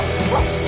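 A dog barks in the video game GTA V, a single short bark with a hard, thumping edge, close and fairly loud, with no talk over it.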